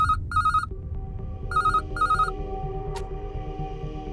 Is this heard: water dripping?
no